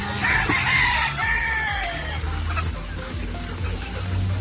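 Rhode Island Red and native chickens on a Philippine farm cluck steadily, with a rooster crowing loudly near the start over a constant low hum.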